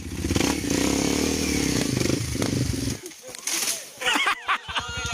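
An enduro motorcycle on a forest-park trail ride revs hard on the throttle, a loud, close, rasping engine roar that cuts off partway, followed by people shouting and talking nearby.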